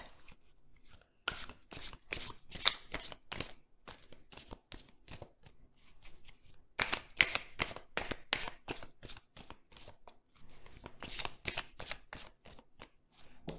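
Tarot cards being shuffled by hand, a long steady stream of rapid riffling and flicking with a brief pause about a third of the way through, close and moderately quiet.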